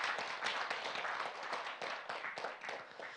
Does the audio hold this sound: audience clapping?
yes